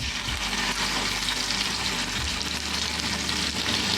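Prawn sticks frying in hot oil in a pan, a loud continuous crackling sizzle with a low rumble beneath at the start.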